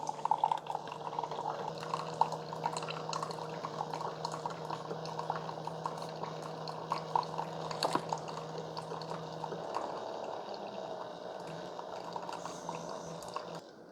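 Coffee drips and gurgles from a stainless reusable K-Cup pod in a Keurig K-Slim brewer, a soft continuous trickle with a faint hum underneath and scattered small splashes, quiet and close.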